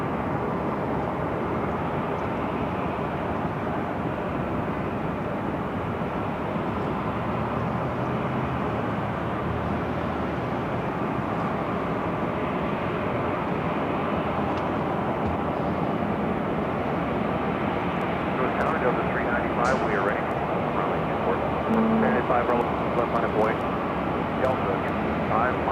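A Delta Airbus A350-900 jet taxis at LAX airport, its engines giving a steady, broad roar at middle distance throughout, with faint clicks and chirps late in the stretch.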